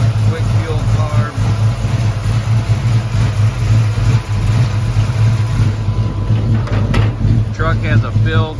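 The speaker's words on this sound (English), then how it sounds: "Under the hood here, looking at a built 355 engine Eagle, rotating assembly, dart head, dart intake, Holley, Quickfuel, Carb." A built 355 small-block V8 with Dart heads, Dart intake and a Holley Quick Fuel carb idles under the hood of a 1954 Chevy 5-window short-bed street rod truck, a steady loud lumpy rumble with someone talking over it.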